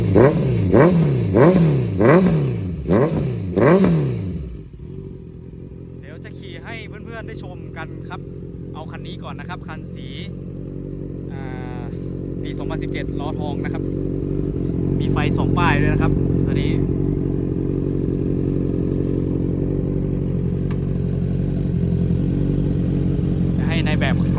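A Honda CBR650F motorcycle revving in several sharp, close, rising bursts, then settling into a steady engine drone as it is ridden, with someone speaking over the running engine.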